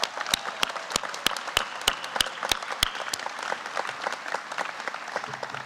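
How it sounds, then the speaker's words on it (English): Crowd applause at an alumni awards gala, with one nearby clapper's sharp, evenly spaced claps standing out over the room's sustained clapping before they stop and the applause carries on. "let us all give a big round of applause for Gil Casillas."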